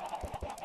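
Chickens in the video game Minecraft cluck in short, soft bursts, with three low pulses in quick succession over a fowl-like chatter. The sound is faint and brief.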